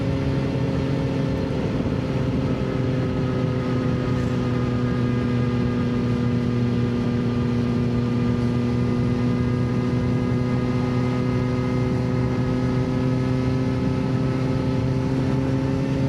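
A steady, droning engine hum from a Kawasaki ZX-4RR holds at a constant pitch throughout on an evening ride, with no talking and no changes in speed.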